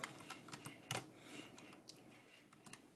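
Keystrokes on a computer keyboard as a Linux command is typed, a quiet run of irregular clicks and taps with one sharper strike near the start, close by and without talk.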